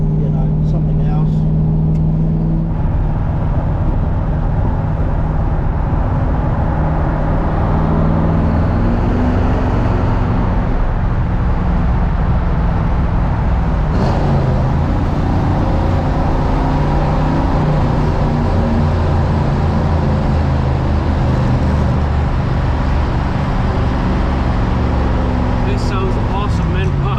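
A 1970 Chevrolet Corvette C3 with an LT1 engine and chambered exhaust drones steadily and loudly while driving, with a continuous engine rumble throughout and people talking over it.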